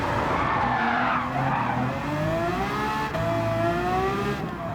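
Engine revving and tires skidding in Gran Turismo 7 on PS5 Pro, a loud, continuous race-car drone with rising and falling pitch and squealing slides throughout, no talking.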